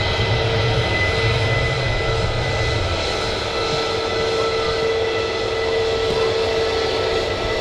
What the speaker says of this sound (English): Massive tail sticking out of the building.